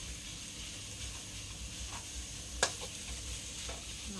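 Pork stir-fries in a pan, a faint steady sizzle with occasional sharp scrapes of the spatula, one standing out midway, quiet and without talk.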